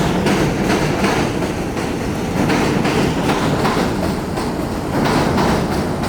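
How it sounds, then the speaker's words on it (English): A Chicago elevated L train on the pink line rumbles past overhead, a loud, steady roar of rolling wagons with rhythmic clickety-clack of wheels over rail joints continuing for the whole stretch. "An elevated train passing above."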